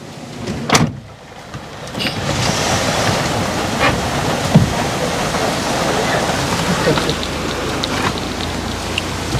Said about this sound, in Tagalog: Pero malakas ulan, sarado muna natin.